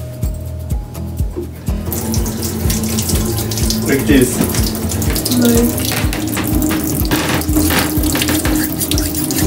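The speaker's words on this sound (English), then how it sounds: "And you just stick it from both sides with the running water." Water runs steadily from a tap into a sink as a stainless steel straw is rinsed from both ends with a small cleaning brush, a continuous wash of flow after an initial quieter moment, with brief voices talking over it.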